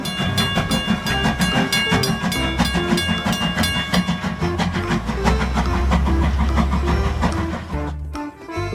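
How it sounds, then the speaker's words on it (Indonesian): A Thomas toy train plays its electronic train sounds and tune, loud and steady with a dense, busy tone throughout, briefly dipping near the end before resuming. "Kereta Thomas."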